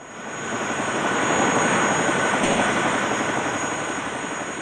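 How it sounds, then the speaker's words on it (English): A loud, steady helicopter engine roar with broadband rotor noise, swelling and then slowly fading as it flies away empty after dropping a load of rice; no voices. "the Vietnamese helicopter drops its load of rice and flies off empty"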